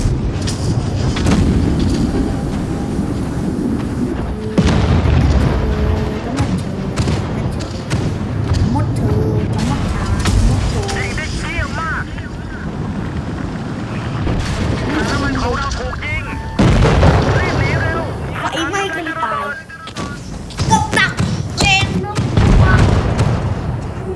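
Tank video game battle with repeated booming cannon shots and explosions, thumps and rumbling crashes layered densely throughout, loud and close, with a voice talking over the action.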